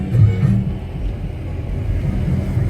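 A vehicle loaded with paragliders and passengers drives toward a takeoff site near Bir Billing, its engine a steady low rumble close by.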